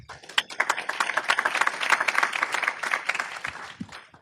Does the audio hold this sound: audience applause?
yes